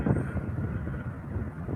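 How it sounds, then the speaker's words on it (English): Old jet aircraft passing overhead: a broad, steady low roar with wind-like rushing, moderately loud and sustained throughout. "Old school jet."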